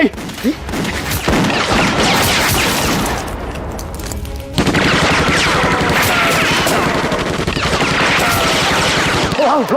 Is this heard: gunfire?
yes